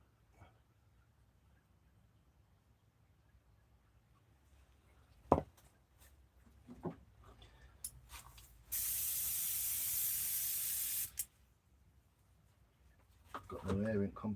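An air compressor nozzle blows a steady, loud hiss of air for about two and a half seconds in a woodworking setting, after quiet knocks and taps and before some faint rustling.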